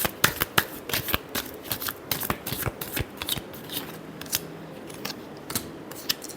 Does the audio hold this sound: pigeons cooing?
no